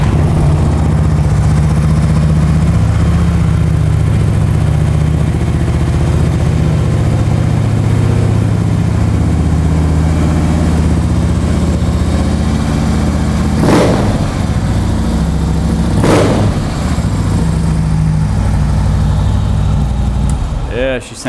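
A Harley-Davidson Ultra Classic FLHTCU touring motorcycle with S&S mufflers and 5,274 miles idles with a steady, deep exhaust rumble, then blips the throttle in two sharp revs near the middle before settling back to idle.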